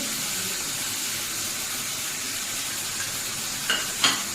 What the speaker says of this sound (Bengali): এবার ভালোভাবে মশলাটাকে কষিয়ে নেব